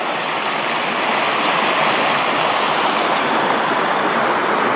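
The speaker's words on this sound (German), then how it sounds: "Ein wilder, reißender Fluss hier." The Hönne, a wild, rushing river in the Hönnetal valley near Balve, roars in a steady, dense wash of water noise that holds close and loud throughout, with no voices.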